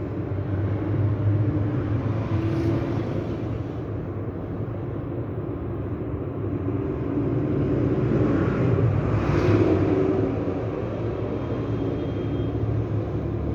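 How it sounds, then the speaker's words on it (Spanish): Cars passing outside a workshop during a quiet pause before refrigerator repair work, a steady low traffic rumble that swells gently around the middle of the stretch, with no talk. "Hay autos, un cachito."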